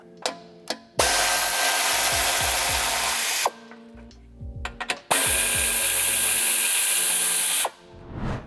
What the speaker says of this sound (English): I'm going to use an air ratchet to make this a little easier than doing it by hand.